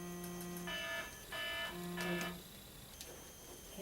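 An electronic timer alarm goes off during a test, sounding three long, buzzy, tonal beeps in a row followed by a short faint blip, fairly close and clear with no talking.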